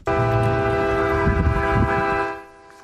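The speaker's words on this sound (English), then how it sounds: "that sounds like a train horn, but it's coming from a Van Nuys house" A loud, sustained train-style air horn blown from a house in Van Nuys, one steady chord-like blast lasting over two seconds before cutting off abruptly.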